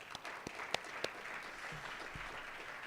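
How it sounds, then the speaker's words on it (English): Audience applause for esports award winners at a live event session in Chicago, steady and moderately loud across the room, with a few sharper individual claps standing out. "So please give a round of applause to all of the winners and yourselves for your contribution as well."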